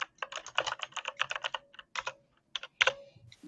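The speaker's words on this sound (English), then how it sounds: "Jonah, do you have one of those annoying high volume, loud, tactile, clicky keyboards?" Loud, tactile clicky keyboard typing rattles along in quick bursts of crisp keystrokes, close and dry, with a few brief pauses between runs.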